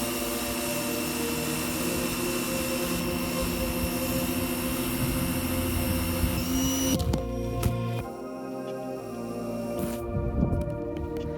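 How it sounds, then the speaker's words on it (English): A pressure washer sprays down a kayak with a loud, steady mechanical hiss and motor drone that runs unbroken for about seven seconds, then cuts off, leaving quieter scattered handling noises. "Now that we've got the kayak sprayed down"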